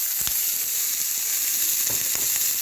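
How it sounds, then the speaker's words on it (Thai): Steady, loud sizzling of pork belly frying in a hot pan without oil, a continuous crackling hiss with occasional sharper pops. "ใส่หมูสามชั้นลงไปในกระทะเลยค่ะ กระทะร้อนแล้ว"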